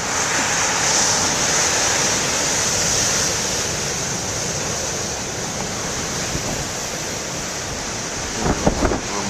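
Huge ocean surf pounds in a continuous roar while strong wind buffets the microphone, loud and close throughout, with a few sharper gusts or knocks near the end.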